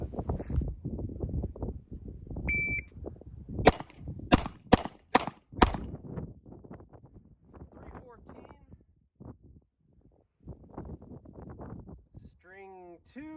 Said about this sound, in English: we're going to start off with the 365X at 10 yards, shooting this freestyle